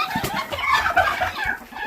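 Broody hens cluck and fuss in a farmyard, their agitated, overlapping clucks close by and fairly loud for a couple of seconds.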